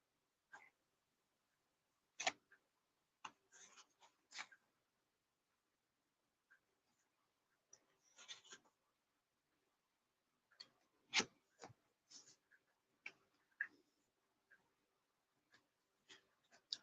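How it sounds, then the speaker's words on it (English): Soft, sparse clicks and riffles of playing cards being shuffled close by in a quiet room, coming in short irregular bursts separated by silences. "As I'm sitting here shuffling cards"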